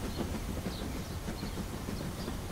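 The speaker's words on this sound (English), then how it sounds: "Mr. Train is going up a ramp." Cartoon toy wooden train rolling up a ramp in a kids' animated song, a steady dense rumble and rattle of wheels on track, loud and continuous with no voices.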